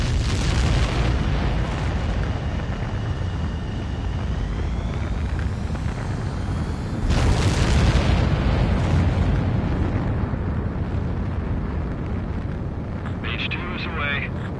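A jet fighter in Ace Combat 7 launches and takes off with a loud, continuous engine roar that surges to a fuller blast midway and then drops as it climbs, with a radio voice talking over it.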